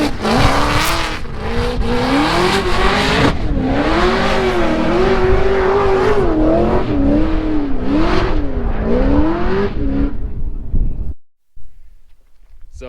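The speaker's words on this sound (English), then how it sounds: "So burning another set of tires." A Nissan S15 drift car with modified front suspension geometry burns its tires, its engine holding a loud wavering drone that rises and falls with throttle over constant tire roar, close by, before cutting off sharply into near silence.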